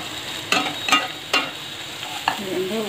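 Ginger-garlic paste with green chillies, cumin and mustard seeds hits hot oil with onions for Andhra prawn curry, giving sharp bursts of sizzle and stirring clatter, four distinct spikes over a low frying hiss.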